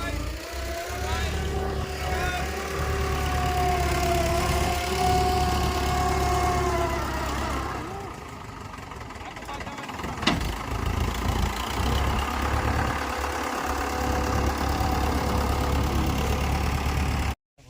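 A loaded tractor's steady, low engine idles throughout, a constant rumble with a faint tonal hum, while voices talk intermittently over it.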